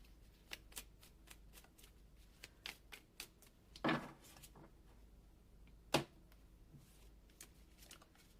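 Oracle cards being shuffled and drawn, giving soft scattered card flicks with two louder riffling bursts partway through, close and fairly quiet, with no talking.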